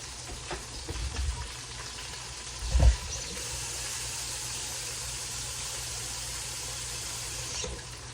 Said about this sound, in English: throw in some water.